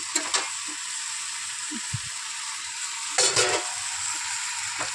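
Meat sizzles steadily in a pan as it is browned and stirred for kosha, with a few scraping spoon strokes at the start and a louder clattering stir near the end.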